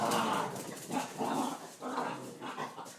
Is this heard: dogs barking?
yes